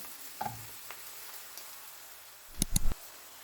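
Chopped onions fry in a pan until light brown, a faint steady sizzle with a few soft stirring clicks and a louder clatter of scraping near the end.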